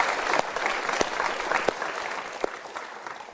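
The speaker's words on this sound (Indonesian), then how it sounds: "Kita berikan tepuk tangan untuk dua orang yang mau curhat." A studio audience at a motivational talk show applauds two audience members called up to the stage, a loud dense wash of clapping with a few sharp individual claps standing out, steady throughout.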